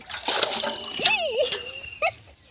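A large snakehead fish thrashes and splashes in muddy pond water during the rainy season, a sloshing burst close by, with people talking and calling out over it.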